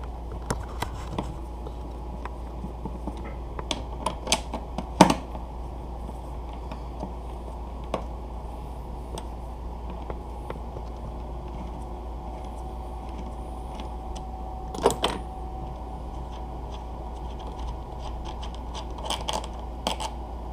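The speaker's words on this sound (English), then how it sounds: "I'm going to start with these 2 screws, and I'm using an 8mm T-handle" Tail section screws being backed out of a 2019 KTM 690 Enduro with an 8mm T-handle: sparse, faint metallic clicks, taps and scrapes spread across a quiet stretch with no talking.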